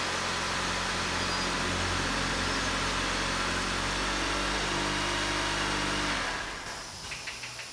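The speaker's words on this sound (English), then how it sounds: "that's what's making all the noise as the steering's straining" A Dodge Journey's power steering pump strains as the wheel is turned, a loud continuous groaning whine over the running engine that holds steady for about six seconds, then cuts off and leaves quieter clicks.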